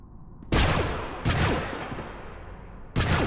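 Gunshots in the sci-fi game SWTOR, a sudden loud blast followed by a second shot about a second later and a third near the end, each with a rumbling tail.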